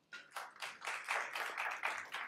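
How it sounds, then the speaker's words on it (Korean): A small audience at a Korean venture forum claps to welcome a presenter. About eight distinct bursts of clapping come in a quick, fairly even rhythm, faint and slightly distant, with no talk. "박수로 모셔볼게요."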